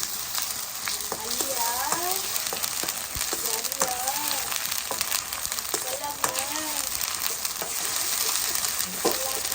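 Onions sautéing with ginger garlic paste in a pan for chicken thokku, a steady close sizzle and crackle with stirring scrapes, while a voice talks faintly underneath.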